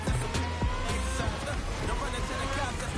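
A race car in The Crew Motorfest drives at speed, its engine roaring loud and close with a few sharp bumps as it runs on, while someone talks over it.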